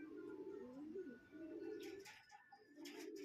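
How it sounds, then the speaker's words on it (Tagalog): Racing pigeons returning to their home loft, cooing in repeated low throaty phrases close by, with soft flutters and a brief rustle of movement between calls. "sabay po yung dalawa lumapag na mga ibon natin"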